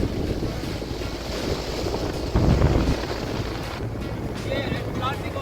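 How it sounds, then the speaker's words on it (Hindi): Atlantic Ocean waves crash along the coast at Tangier, a loud, continuous wash of surf with strong wind buffeting the microphone. "अटलांटिक ओशन का ठाटे मारता हुआ, शोर मचाता हुआ समंदर का नज़ारा रूह को सरशार कर देता है।"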